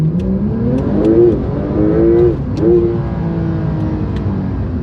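A Porsche 911 992 Turbo S accelerates hard, its engine note climbing quickly through repeated surges and brief dips at gear changes, loud and close from inside the car with no talking.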